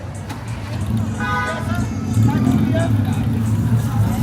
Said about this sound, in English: There's your traditional tuk-tuk.